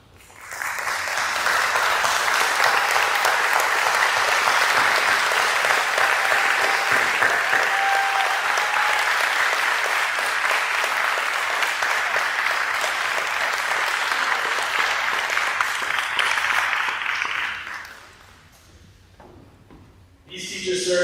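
Fourth grade students standing at their school celebration to applaud the faculty, a large, sustained round of clapping that holds strong for about seventeen seconds, then fades to a murmur and a few stray sounds.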